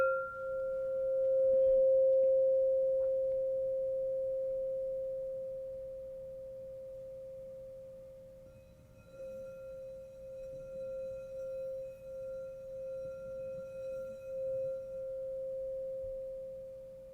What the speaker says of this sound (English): But this is the high C, which activates manifestation and our crown chakra.